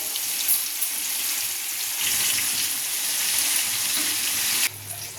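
Continuous hissing sizzle of fish frying in hot oil, loud and steady throughout with no voices.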